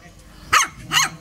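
A small homeless brown puppy gives two quick high yips close by, each short and sharp, with a faint background hum between them.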